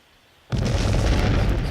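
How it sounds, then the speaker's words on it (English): A sudden video-game explosion bursts in after a short silence, then rumbles on as a dense, loud, noisy roar without fading. "Explosions."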